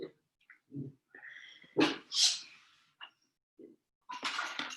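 A puppy makes a few short, close sounds in a quiet indoor yoga setting, with soft whines, snuffles and breathy noises separated by silences.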